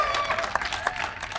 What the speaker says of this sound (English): you're free to applause if you would like